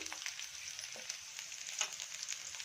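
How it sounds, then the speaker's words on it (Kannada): Onion, crushed ginger and garlic frying with bajji chillies in a pan give a steady, soft hiss with faint crackles and light stirring clicks throughout. "ಮೆಣಸಿನಕಾಯಿ ಕೂಡ ಚೆನ್ನಾಗಿ ಫ್ರೈ ಆಗಿದೆ"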